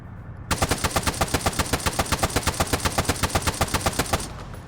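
Sustained automatic gunfire in a military shooter game, a fast, even burst of roughly thirty loud shots lasting almost four seconds before stopping abruptly, with no voices over it.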